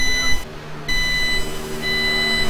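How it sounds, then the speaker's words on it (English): A steady electronic beep rings in the background of a racing broadcast, a high sustained tone that cuts out briefly, returns, then drops away and resumes over a low hum. "We're getting a beeping sound."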